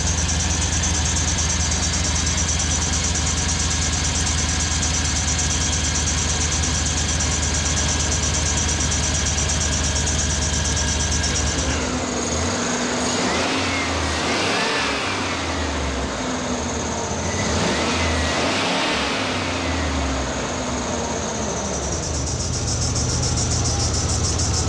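A rusty GMC Sierra or Chevrolet Silverado pickup truck engine idles steadily, then revs up twice in quick succession before settling back to a rough idle, loud and close.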